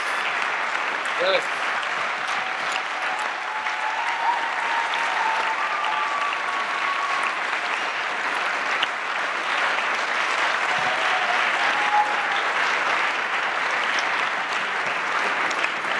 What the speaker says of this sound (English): Let's give one more great round of applause for all of our participants tonight